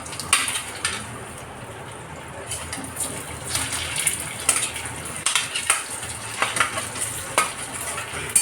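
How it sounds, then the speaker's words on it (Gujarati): Mustard seeds pop and sizzle in hot oil as a tempering for Gujarati muthiya, a steady frying hiss broken by sharp, irregular crackles and bursts that grow busier toward the end, close and fairly loud with no talk. "આપણે હવે તેલને થવા દઈશું ને રાઈને ફૂટવા દઈશું"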